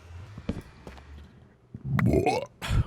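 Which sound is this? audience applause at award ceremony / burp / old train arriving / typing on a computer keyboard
burp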